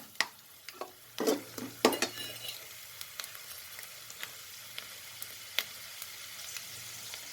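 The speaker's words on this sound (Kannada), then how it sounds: "ಈಗ ಶೇಂಗಾ ಸ್ವಲ್ಪ ಫ್ರೈ ಆಗಲಿ." Peanuts frying in a pan for Mysore-style shavige bhath, a steady soft sizzle broken by several sharp clacks of a spatula against the pan, loudest early on, with no talk.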